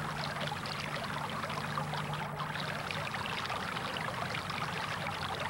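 Slow, languid water of a southern English stream flowing steadily in spring, a continuous soft trickling and burbling close by with no voices.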